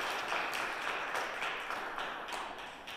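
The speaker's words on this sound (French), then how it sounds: "Bonne main d'applaudissement." Soft, distant applause from a gathered congregation, a steady patter of many hands clapping at low volume throughout.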